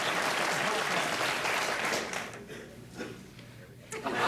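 A studio audience applauds loudly at a 1982 Johnny Carson Tonight Show opening, a dense steady burst of clapping that thins and fades after a couple of seconds into scattered claps.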